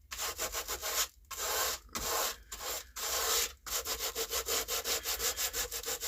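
Wood filler on a wooden surface is rubbed smooth by hand, in long scraping strokes broken by brief pauses, then a faster run of short rhythmic rubs, close and alone.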